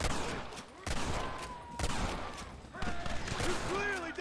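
Gunfire in the Red Dead Redemption video game during a shootout at a gate in West Elizabeth: rapid, overlapping shots crackling continuously, with game voices shouting amid the volley.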